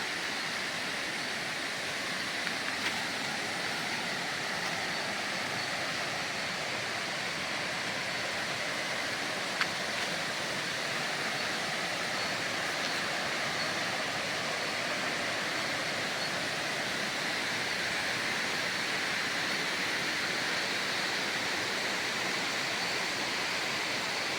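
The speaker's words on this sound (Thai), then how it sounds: "น้ำตกคลองลานนะครับ" Steady broadband rush of water at Khlong Lan waterfall, continuous and unbroken throughout, fairly close, with no voices heard.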